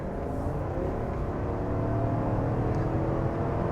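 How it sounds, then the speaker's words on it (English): A 2022 GMC Yukon Denali XL's 6.2-liter V8, 420 horsepower with a 10-speed automatic, gives a steady deep engine drone and whir, heard continuously from inside or nearby without speech. "that V8 just sounds so good. The V8 sounds really, really good."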